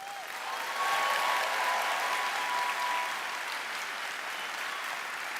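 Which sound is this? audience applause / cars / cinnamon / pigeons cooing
audience applause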